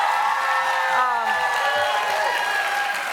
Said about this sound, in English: Clap a little bit more